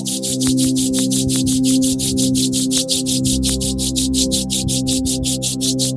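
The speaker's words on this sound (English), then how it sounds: "Bring your hands near your chest and rub your palm." Palms rubbed briskly together to warm them during a breathing exercise, a steady rapid swishing friction with even strokes throughout, set against a sustained tonal musical background.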